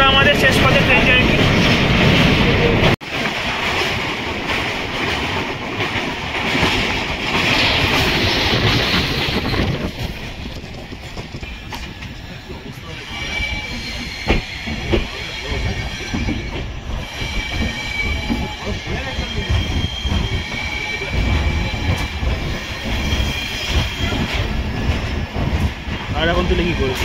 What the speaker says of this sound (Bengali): তো যাত্রা আমাদের শেষ পথে ট্রেন জার্নি।